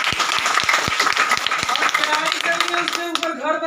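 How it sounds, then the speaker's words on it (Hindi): Loud applause from an audience at a DXN family gathering in Ranchi, Jharkhand, opening with distinct sharp claps that quickly swell into a dense burst of clapping, with voices rising underneath toward the end. "जोरदार ताली"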